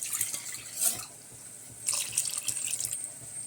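Water is poured from a tap or jug into a pan of Kottayam-style hotel fish curry, two short splashing bursts of running liquid, fairly close, with no talk.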